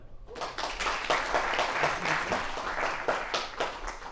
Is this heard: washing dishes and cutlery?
no